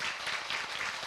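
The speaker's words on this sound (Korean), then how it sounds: "오늘 다시 한 번 더 고생해주신 우리 세 분께 큰 박수 부탁드리겠습니다" Audience applause for three guests at a live talk concert about office life, a steady dense patter of clapping filling the whole brief moment with no voices.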